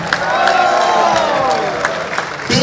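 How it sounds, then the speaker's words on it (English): A crowd at the IIFA Awards 2025 press conference in Rajasthan applauds thunderously for women standing in the audience, a dense, steady wash of clapping with voices and cheers mixed in throughout. "let's give them the biggest thunderous applause"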